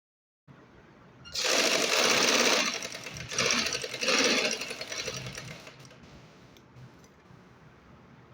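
A sewing machine stitches trouser fabric, starting after a brief silence with a rapid mechanical chatter that rises loud, dips, surges again and then slows and fades toward the end.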